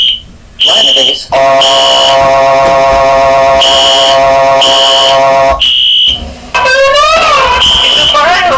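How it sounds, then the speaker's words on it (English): A loud cartoon fire alarm in a school rings as a harsh electronic buzzing tone in long bursts broken by brief gaps, ending in a warbling siren-like sweep. "It's a fire alarm!"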